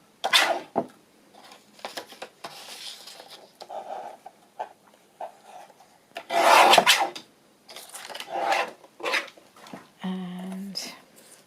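Paper postcard having its bottom edge trimmed, giving close, dry rasping cuts in several short bursts with pauses, ending in a brief louder crinkle.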